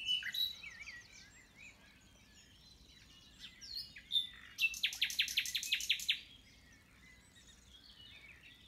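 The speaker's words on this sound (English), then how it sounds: "Never heard a nightingale before." A nightingale singing outdoors at a rewilding estate: bright, varied phrases of chirps, whistles and rapid repeated trills, clear but moderately distant, with a low background hum.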